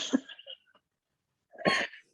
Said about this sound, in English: That's a really cute sneeze.